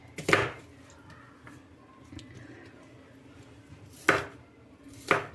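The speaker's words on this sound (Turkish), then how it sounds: "Arkadaşlar böyle doğruyorum ve ocağa çorbamızın içine boşaltıyorum." Garlic is chopped for Turkish lentil soup, with three sharp knife strikes on a board separated by long quiet gaps, close and crisp over a faint kitchen background.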